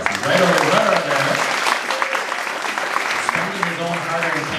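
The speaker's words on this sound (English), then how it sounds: "So give him a round of applause." An audience applauds Kevin at a concert held inside a grain elevator, with a few seconds of steady, dense clapping in a reverberant space and voices heard over it.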